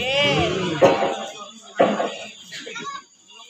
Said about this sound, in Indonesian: Ibu ngapunten dalem sambil batuk-batuk nggih.